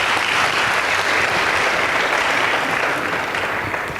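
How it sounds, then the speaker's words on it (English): Loud, dense applause from a school debate audience cheering the competing high school teams, sustained and even for several seconds close to the listener. "Give them a round of applause as well."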